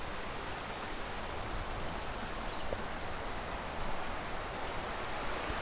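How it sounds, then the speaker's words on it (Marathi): Flowing stream water in front of a temple near the Vyaghreshwar waterfall in Devgad, Konkan, a steady broadband rush that stays even and continuous throughout, with no voices. "पाण्याचा सुंदर प्रवाह"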